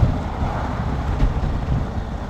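Wind buffeting a rider behind the lowest-set windscreen of an Indian Chieftain Limited motorcycle, a loud continuous low roar and rumble of air with gusty swells, no talk.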